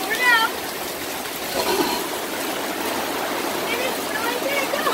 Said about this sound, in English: Man, this is some serious rain.